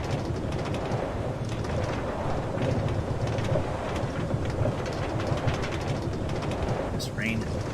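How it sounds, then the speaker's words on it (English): Steady rain in Minecraft on Windows 10, a dense continuous hiss and patter with a low rumble that holds at an even level throughout, with no voice over it. "This rain is boring."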